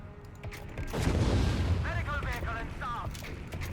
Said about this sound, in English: Delayed fuse barrage.